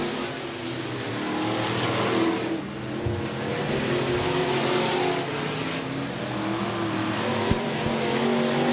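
IMCA stock cars race at Stuart Raceway, a dirt oval, with a steady roar of engines revving and passing at moderate distance and a brief sharp thump near the end.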